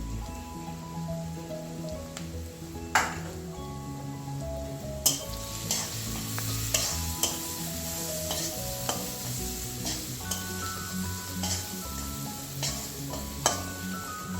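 Steady sizzling of panch phoron spices frying in a pan, with occasional scraping stirs and light clinks throughout, close and moderately loud, no voices.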